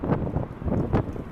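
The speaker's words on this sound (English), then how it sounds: "It's a gusty, windy day today." Gusty wind buffeting an outdoor microphone near an airport, uneven low rumbling puffs that rise and fall in quick bursts, loud and close.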